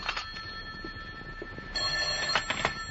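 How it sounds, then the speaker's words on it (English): Telephone bell ringing in an old-time radio detective drama, a steady electric ring that sounds in two bursts with a short break between them, close and clear, with no voices over it. "the phone interrupted my first cup of coffee the next morning at 10:30"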